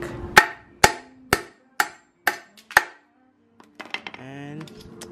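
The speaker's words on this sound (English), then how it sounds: "Grab your hammer. Give it a whack." A hammer strikes a bolt six times in a steady rhythm, sharp metallic clanks ringing close by, knocking a nipple out of a KA24DE intake manifold from a 240SX; a short burst of speech follows.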